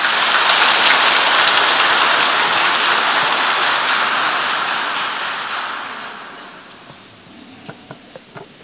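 Loud, dense applause from a congregation fills a church wedding ceremony, holding steady for several seconds before fading out to a few scattered last claps.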